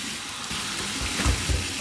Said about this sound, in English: Here's the warm water rinse.